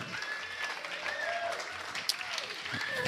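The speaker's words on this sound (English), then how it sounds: "Yes, you can clap now." An audience applauds at a live gig at The Bedford, a continuous even patter of many hands, moderately loud, with a voice talking over it.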